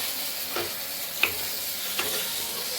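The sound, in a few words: frying ginger, cumin and chili spice paste in oil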